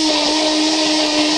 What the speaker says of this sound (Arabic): هضربه بالهاند بلندر